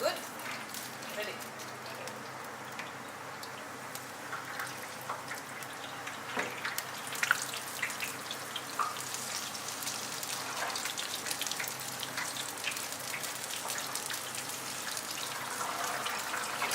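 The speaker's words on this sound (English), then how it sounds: "See how in the deep fryer now the rice is all puffing up like the Rice Krispies I was talking about." Green rice puffs up in a deep fryer with a dense, steady crackling sizzle, like rain on a surface, close up and continuous throughout.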